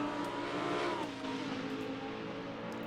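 Race car engine of the Point Blank Racing BMW in a sim GT race at Kyalami, droning loud and close with a falling pitch as it shifts down, steady engine tone throughout with no talk.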